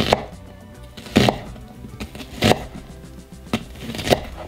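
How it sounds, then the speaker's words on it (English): A knife slicing an onion for a burger comes down on a cutting board in five or six crisp, separate chops at a slow, uneven pace, loud and close, with quiet pauses between strokes. "I'm just gonna go ahead and cut some onion slices"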